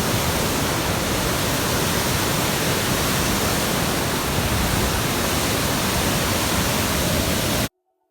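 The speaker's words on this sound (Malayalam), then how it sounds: "ഡാമിൻ്റെ ഷട്ടർ ഇവിടെ സൈഡിൽ നിന്നാണ് വെള്ളം ഒഴുകുന്നുണ്ട്" Water pours out of an open dam shutter as a loud, steady roaring rush that fills the whole clip with no pauses. It cuts off abruptly near the end.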